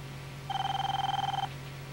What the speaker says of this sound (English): Phone call coming in. Trace it.